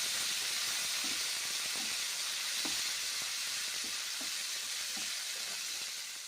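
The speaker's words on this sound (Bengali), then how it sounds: "বিনসগুলো ভেজে নিচ্ছি তেলের মধ্যে, 1 মিনিট ভেজে নিচ্ছি।" Beans frying in oil in a home kitchen, a steady soft sizzle and hiss throughout with faint occasional stirring clicks, close and continuous with no talk.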